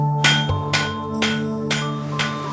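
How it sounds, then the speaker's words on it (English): Heavy water-powered forge hammers in a mass-production forge, striking metal in a steady rhythm of about five loud ringing blows, each leaving a metallic ring, over a constant machinery hum with no talk. "The forge uses water-power technology to drive heavy hammers and pump air into its fires."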